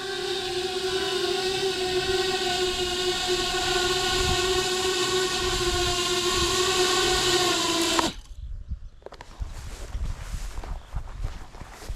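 A 10-inch aluminium-frame FPV drone comes in to land, its motors giving a loud, steady, tonal whine for about eight seconds before cutting off abruptly and leaving faint background noise.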